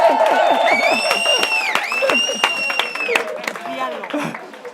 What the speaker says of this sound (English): Ready to clap for this one?